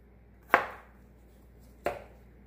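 A knife cuts through cucumber for shrimp aguachile, two sharp chops on a board about 1.3 seconds apart, each a crisp close thud with a short ringing tail in an otherwise quiet kitchen.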